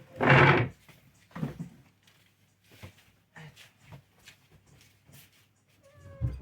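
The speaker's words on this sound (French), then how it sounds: "j'ai juste mon chat qui veut sortir" A house cat wanting to go outside gives a loud close meow, then several shorter fainter mews and small knocks spaced through the quiet room, ending with another cry.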